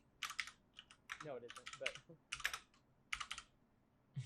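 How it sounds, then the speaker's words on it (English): Someone types on a computer keyboard in quick bursts of close, soft clicks, with a person talking quietly between and over the keystrokes. "Typing in another language is hard."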